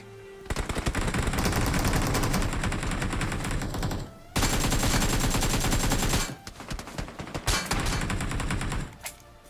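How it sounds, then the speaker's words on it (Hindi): Sustained rapid automatic gunfire with bursts and explosions from the mobile battle royale game BGMI, loud and nearly continuous, with brief pauses between volleys of shooting and grenade blasts. "भाई ग्रेनेड आ रहे हैं, फायरिंग हो रही है"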